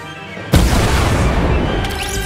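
A sudden loud boom from an explosion in the Fortnite video game erupts after a quiet moment, then its rumbling decay lingers steadily to the end.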